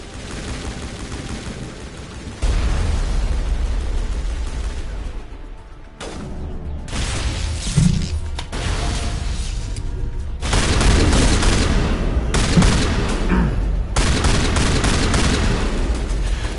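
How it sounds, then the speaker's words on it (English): A mounted gun fires in Mass Effect Legendary Edition on Virmire: loud, repeated bursts of heavy shots and booming impacts come in waves with short gaps between them, close and forceful. "There must be a way to shut that gun down."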